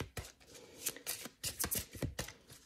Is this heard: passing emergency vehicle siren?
no